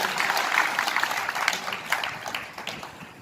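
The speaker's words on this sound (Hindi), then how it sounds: "तो सर्वप्रथम मैं आप सबसे जोरदार तालियों से माइक के साथ स्वागत करूं।" Applause from an audience at a political rally in Ellenabad, a dense, steady wash of many hands clapping for a few seconds without a break, with no speech over it.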